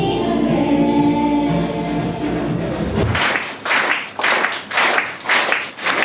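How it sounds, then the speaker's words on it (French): After a concert, the crowd claps together in a steady rhythmic cadence calling the group back. The clapping starts loud and close about halfway through, replacing music that fades out. "les fans désormais applaudissent en cadence pour faire revenir le groupe"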